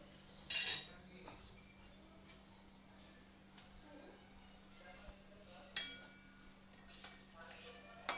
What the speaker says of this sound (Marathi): सर रवा भाजून घ्यायचा आहे